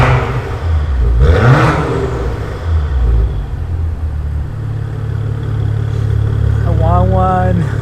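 A 2019 Maserati Levante S SUV's Ferrari-built engine revs hard twice, its pitch climbing in quick sweeps over a steady, rumbling exhaust drone.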